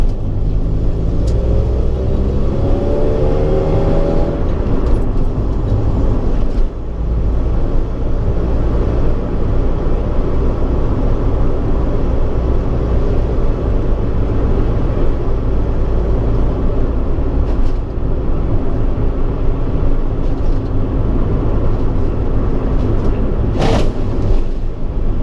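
Inside a 1990 Honda Civic EF hatchback on MaXpeedingRods coilovers, the car travels a rough road with a loud, constant low rumble of road and engine noise. A few faint knocks and rattles come through, and no voices are heard.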